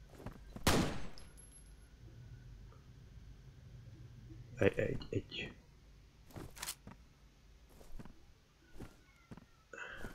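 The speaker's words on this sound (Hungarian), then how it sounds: "Egy lövés, egy találat." Gunfire in the video game F.E.A.R.: a sharp, loud shot early on, followed later by scattered weaker bangs and clicks, with a voice talking intermittently in between.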